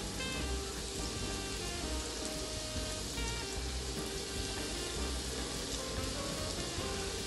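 Popcorn fish frying in hot oil gives off a steady, even sizzle and crackle, faint and continuous, with no talking over it.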